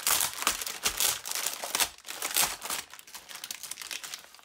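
A plastic Lego Nexo Knights Power Pack blind bag crinkles and rustles as it is torn open, in irregular close-up bursts of crackling with no talk.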